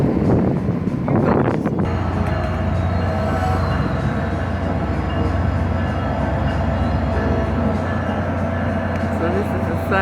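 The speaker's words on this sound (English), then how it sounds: "So this is the Sunrail station too. And the train station." A train rumbles at an Orlando SunRail station, a steady low drone with some wheel and rail noise, starting with a louder burst before settling into a continuous hum.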